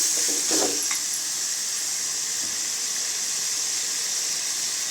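Mutton pieces hitting a hot pot for mutton kulambu, a loud steady sizzling hiss that stays constant throughout, with a brief clatter near the start.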